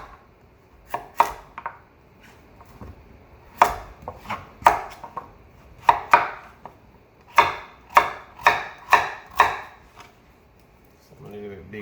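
Vegetables are chopped with a knife on a cutting board for Jamaican seasoned rice with callaloo, giving sharp, irregular knocks in small clusters, close and fairly clear against a quiet room.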